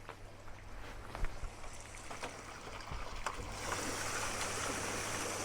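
Hot tub water jets at a forest cabin run with a steady rushing, bubbling churn of water. The sound grows louder and denser partway through, with no talking.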